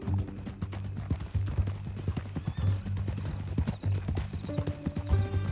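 Rhythmic clip-clop of horse hooves in Red Dead Redemption 2, steady and close, with a brief whinny and faint mechanical clinks near the end.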